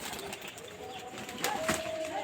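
Pigeons kept for sale at a house make soft, low cooing and rustling nearby, with a faint flutter and a thin tonal call near the end.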